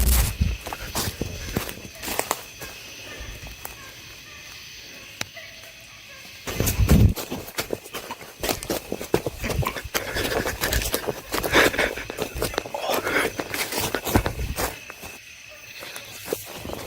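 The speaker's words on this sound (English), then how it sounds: "the noise builds into rapid, heavy footsteps rushing through the brush" Rapid, heavy footsteps rushing through brush at a campsite, a long burst of irregular crunching and thudding steps that grows denser and louder midway, with rustling foliage and occasional sharp knocks.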